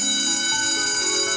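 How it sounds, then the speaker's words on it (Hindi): A school bell rings continuously for the whole moment, a loud steady metallic tone with bright sustained overtones and no talk over it. "घंटी बज गई है"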